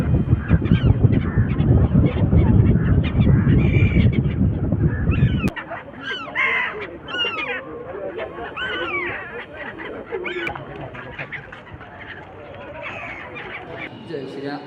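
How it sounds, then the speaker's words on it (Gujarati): Water birds honk and call repeatedly, a busy flock at moderate distance; a low rumbling background fills the first few seconds before quieter ambience. "આ પક્ષી પાણીમાં જે તરી રહ્યા છે"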